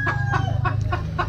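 Albany Sweater and Tornado gamefowl chickens cluck in short repeated bursts, close by, over a steady low hum.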